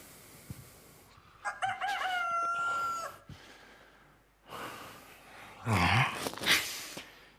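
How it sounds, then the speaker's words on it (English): A rooster crows twice at a moderate distance, each call a drawn-out cock-a-doodle-doo separated by a quiet pause. "I'd never noticed how often roosters crow."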